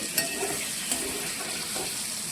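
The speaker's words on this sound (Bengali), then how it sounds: "বাদ বাকি পনিরগুলো দিয়ে দিয়েছি, এগুলো একটু হালকা করে ভেজে নেব" Paneer cubes fry lightly in a pan with a constant, even sizzle and a few faint taps of a utensil against the metal.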